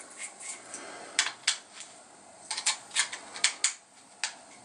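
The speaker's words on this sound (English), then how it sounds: "Let's just see if that screws on there somehow." A fitting being screwed onto an Intova IFL WA Zoom video light: small plastic clicks, scrapes and ratcheting ticks in irregular bursts, close and crisp with no talking.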